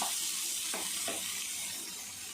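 Small onions sautéing in a pan, a steady close sizzle with a few brief clatters of stirring, no talking.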